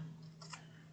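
Scissors snip once through a Dollar Tree felt stocking, a brief, faint crisp cut over a steady low hum in a quiet room.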